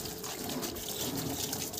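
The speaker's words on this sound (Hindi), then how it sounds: "बिल्कुल लो पानी डाल" Steady splashing of water poured over a car during washing, continuous and fairly close, with no talking.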